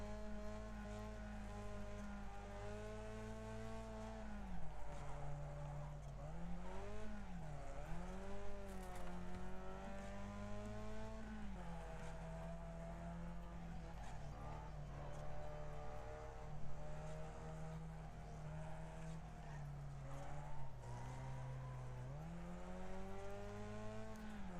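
Race cars roar and rev through a Wreckfest demolition race, a continuous loud engine drone with rising and falling pitch as the cars speed, crash and scrape, with no voices.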